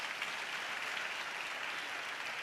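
A church congregation claps hands together in a dense, continuous burst of applause during praise, even and sustained throughout.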